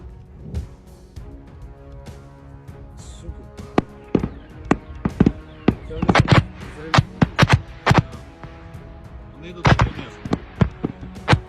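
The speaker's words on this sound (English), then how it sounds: "They appear to be cluster artillery releasing submunitions in the air" Cluster artillery bursts in the air releasing submunitions, a rapid scatter of sharp cracks and pops of varying loudness, some clustered in quick runs, others isolated.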